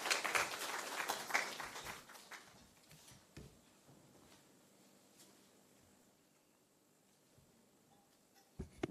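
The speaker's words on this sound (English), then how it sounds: "May I now request Dr. Sendil to take over with a big round of applause." Brief applause from a workshop audience, a burst of scattered clapping that quickly thins into a few faint taps and rustles, quiet and somewhat distant.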